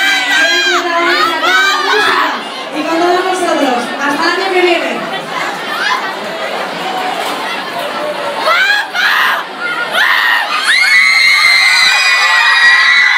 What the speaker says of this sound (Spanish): Un gordo aplauso para Chris